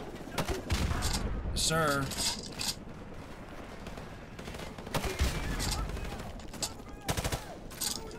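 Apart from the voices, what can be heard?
gunfire from the video game Call of Duty: Modern Warfare Remastered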